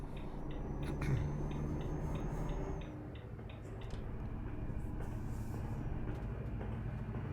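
A train passing a truck in the Euro Truck Simulator 2 game, a steady rumbling roll with rhythmic clicking of wheels over rail joints and a bell-like tone, under a continuous engine drone.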